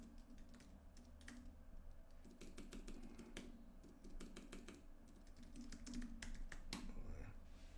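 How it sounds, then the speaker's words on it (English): Rapid, irregular clicking of keys on a computer keyboard, close and fairly quiet over a low steady room hum, continuing throughout without talk. "I'm going to try this typing thing out."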